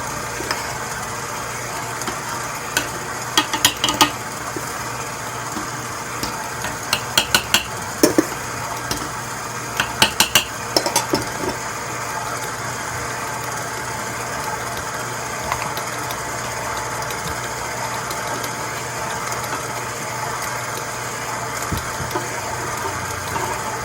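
An electric mixer blends banana cake batter with a steady, continuous motor drone. Occasional clicks and clinks of the beaters against the bowl come through clearly, with no voices.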